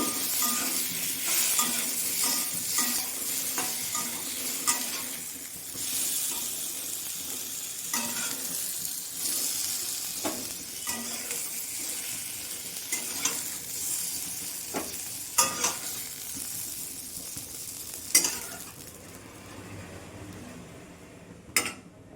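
Fish fries in oil in a kadhai for a Bengali ridge gourd and fish curry, giving a steady close sizzle with repeated stirring scrapes and a few sharp metal clinks, with no talk.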